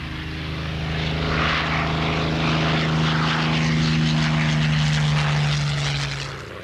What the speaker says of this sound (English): The Hurricane was the RAF's other main fighter.